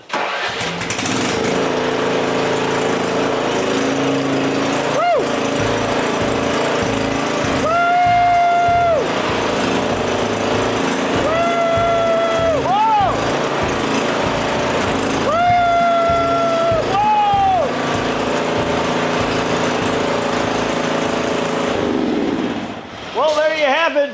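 An MTD lawn tractor engine cranks and fires, then runs steadily and loudly for a long stretch with several rising revs, close by, with voices speaking over it.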